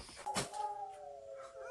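Dogs howling upstairs indoors at a deer outside, a faint drawn-out howl with a sharp burst near the start and a wavering tone trailing on, heard from a distance.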